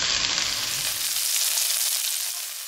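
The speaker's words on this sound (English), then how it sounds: "Stir fry ginger, garlic and onion until golden brown." Ginger, garlic and onion stir-frying in a pan give a steady, close sizzle that holds its level for nearly three seconds and eases off slightly at the end, with no talk.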